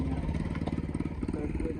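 A motorcycle engine idles and putters with a rapid, pulsing low thrum close by, while voices talk over it.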